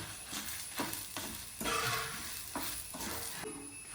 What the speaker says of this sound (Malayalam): അപ്പോൾ നമുക്ക് ഇതിലേക്ക് മുളക് വറുക്കാൻ വേണ്ടിയിട്ടിടാം